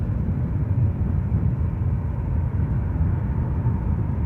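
A United Airlines airliner departs Edinburgh airport, heard as a steady, loud low rumble of jet engines holding evenly throughout with no voices over it.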